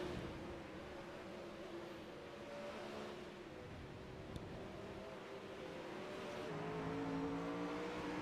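A 360 dirt track race car goes into turns 1 and 2, its engine a steady droning roar with layered harmonics that rise in pitch toward the end as it powers through the corner, heard from an onboard position.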